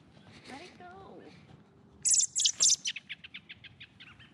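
Small wild birds in a garden with raised beds chirp in a quick, sharp series of high notes that fade away, following a brief soft voice at the start.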